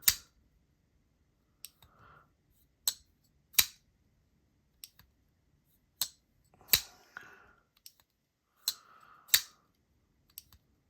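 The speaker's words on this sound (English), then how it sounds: "It's still kind of clicking, isn't it?" Sparse mechanical clicks from an object being taken apart by hand, a dozen or so sharp, close snaps spread irregularly over quiet gaps, with a few softer rattles between them.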